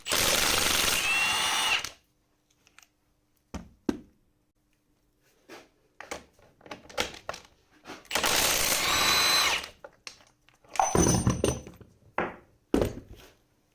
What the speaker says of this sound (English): the screws securing the hook are of considerable size, so we will use a wrench of substantial size